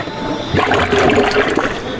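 Water rushes and gurgles steadily down a just-unclogged trench drain at a tire centre, like a strong flow draining away, loud and close with no voices.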